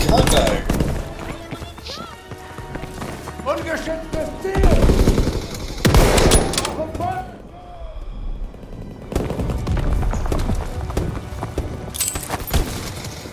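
Shotgun fire in Call of Duty: World War II multiplayer, loud bursts of blasts with dense game action and scattered effects, while a player talks over much of it.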